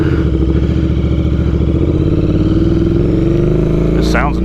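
A Royal Enfield Interceptor 650 motorcycle engine thrums loudly and steadily up close during a ride, a pulsing low rumble with a brief voice near the end.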